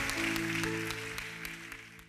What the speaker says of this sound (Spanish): si ese aplauso es para el Señor, déselo más fuerte